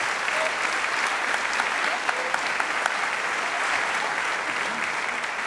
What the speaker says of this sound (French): On peut l'applaudir très très très très très fort.